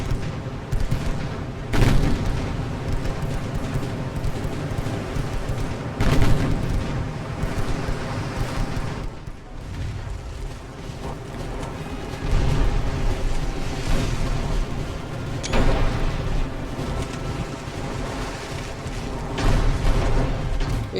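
Naval gunfire from warships in Ultimate Admiral: Dreadnoughts, an 1890s fleet battle between light cruisers and destroyers, rolls on as repeated deep booming salvos over a constant low rumble, several heavier blasts standing out across the stretch.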